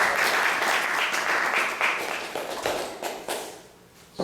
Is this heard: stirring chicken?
no